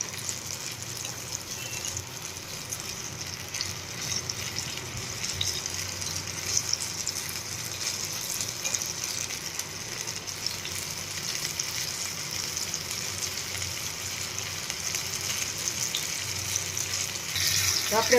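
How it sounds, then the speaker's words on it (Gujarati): Steady, continuous sizzling of ripe banana fritters deep frying in oil, a dense even hiss that holds for the whole stretch with no talking. "બંને બાજુ ફેરવીને એકદમ સરસ આપણે તળી લઈશું"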